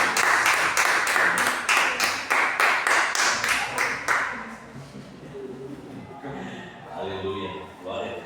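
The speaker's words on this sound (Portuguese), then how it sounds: "Vamos aplaudir ao Senhor." A church congregation claps in praise, with steady rhythmic clapping for about four seconds that then fades, followed by speaking under faint room noise.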